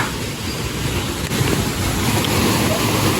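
Water rushes from opened dam floodgates below a slippery river corridor trail, a loud, steady roar that continues without a break, with a low rumble and wind buffeting the microphone.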